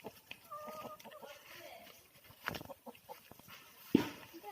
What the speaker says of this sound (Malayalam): ഇതാ കോഴികൾ ഇവിടെയുണ്ട്.